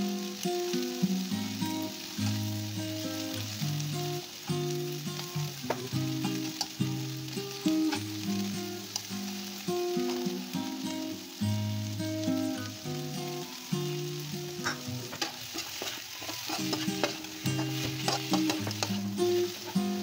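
Shrimp sizzle and fry in a pan for seafood kare-kare, a steady loud crackle with frequent stirring and scraping clatter and no talking.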